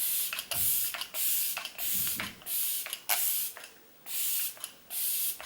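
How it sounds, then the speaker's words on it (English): Glam Glow Glowsetter makeup setting spray misting, close short hissing bursts repeated about eight times in an uneven rhythm with brief pauses between pumps. "I'm then just going to mist my skin over with the Glam Glow Glow Setter Makeup Setting Spray"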